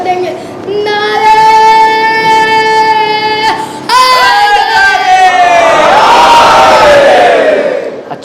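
A crowd at a religious majlis gathering loudly shouts back a chanted slogan in unison, a sustained roaring cry that rises twice and holds before trailing off.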